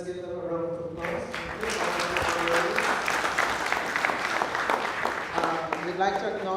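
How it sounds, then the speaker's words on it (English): Applause fills a Guyana Cultural Association awards ceremony after an honoree accepts, a steady broadband wash of clapping lasting several seconds, with harmonic voice traces and possible talk over the start and end. "And let's give them a round of applause."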